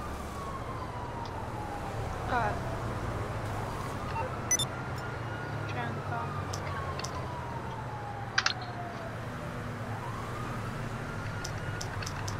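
Police sirens wail in GTA Online, a long, slowly sweeping tone rising and falling across the whole stretch over a steady low rumble of traffic and engine noise, with a few brief clicks and knocks.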